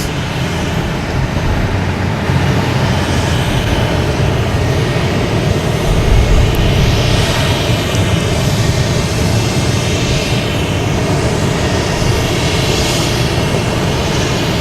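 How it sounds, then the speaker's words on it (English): An American Airlines Boeing 737-800 jet arriving from Chicago at Boston Logan roars loudly and continuously, the broad engine noise swelling slightly midway with no voices over it. "That's American Airlines coming in from Chicago"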